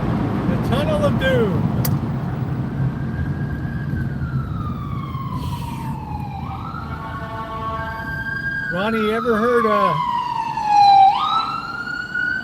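Emergency vehicle sirens wail and yelp through a busy city street, several rising and falling tones sweeping across one another over steady traffic rumble, with someone talking over them.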